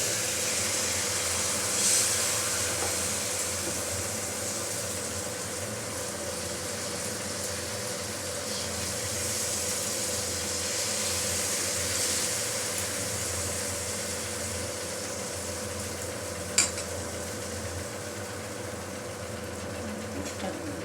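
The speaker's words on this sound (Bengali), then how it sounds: "এবার আমরা কড়াইতে ঘি ব্রাশ করে নিলাম এবার আমাদের সাপটার ফুটটা আমরা দিয়ে দিচ্ছি" Patishapta batter cooking in a ghee-brushed karahi gives a steady, soft sizzling hiss that runs evenly throughout, with a low background hum and no talking.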